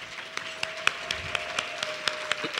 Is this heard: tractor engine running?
no